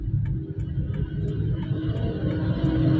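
A car engine rumbles low and steady from inside the cabin as a learner driver gives gas on an underpass road in Kaliurang, the drone swelling slightly toward the end with no talk.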